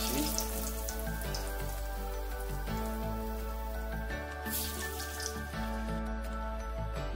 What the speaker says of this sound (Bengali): ওই গ্যাসের হিট কমিয়ে আমরা এটাকে ভাজতে থাকবো।